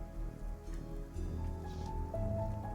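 Steady rain patters on surfaces in the steampunk video game Sovereign Syndicate, falling near Braxton Manor up the hill from a ferry dock; a continuous wash under low, droning game music with no voices.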